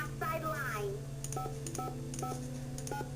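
Telephone keypad tones beep in a quick series of short, evenly spaced presses in the Nancy Drew video game, close and clear over a steady low hum, with a voice speaking underneath.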